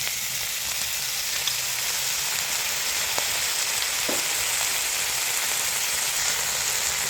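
Pork frying in a wok for pad kra pao gives a steady, loud, close sizzle that hisses evenly throughout, with only a couple of faint utensil taps and no voices.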